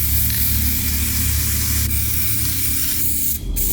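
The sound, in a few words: spraying clear coat from a spray can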